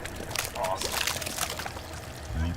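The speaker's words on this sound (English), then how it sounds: "Blood rains down. More of a blood shower." Gushing, splashing liquid in a Mortal Kombat X brutality as blood showers down, a steady wet pouring wash heard under close talking voices.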